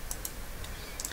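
Computer keyboard keys pressed while working in Blender 2.78, a handful of light, quick clicks spaced irregularly, close and fairly quiet.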